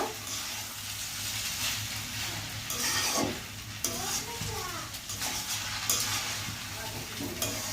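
Noodles and vegetables sizzle over low heat in a pan while a utensil stirs them, with scraping strokes and clanks over a constant frying hiss, all heard close up.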